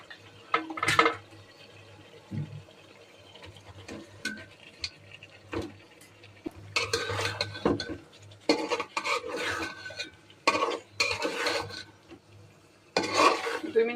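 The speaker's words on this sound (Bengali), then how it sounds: "দুই মিনিট একটু কষিয়ে নিব মশলাটার সাথে" Meat being stirred and fried with a cooked-down spice paste, intermittent bursts of scraping and rubbing in the pan with a faint sizzle between strokes, close by, without speech.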